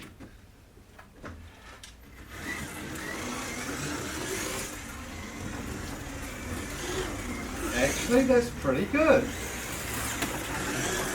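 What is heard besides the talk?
Scalextric Ford Mustang slot car running on track without magnet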